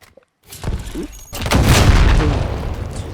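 A lethal equipment explosion in Call of Duty: Modern Warfare (2019), a claymore-like mine with a 360-degree blast radius. A few soft thuds come first, then one loud, close, roaring blast with a long rumbling, crackling tail, and no talking.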